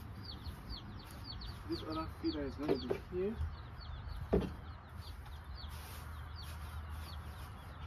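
Young chicks in a brooder peep and cluck in short bursts near a feeder, with high chirps running through and a person talking over them.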